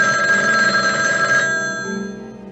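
A telephone bell rings in the 1977 film Telefon, a bright sustained electric ring that holds steady, then cuts off and leaves a fading tail with no voices.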